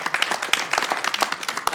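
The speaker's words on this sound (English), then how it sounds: "we should give them a big round of applause" Audience at a Sacramento city council meeting breaking into brief applause, scattered claps under a speaker's voice.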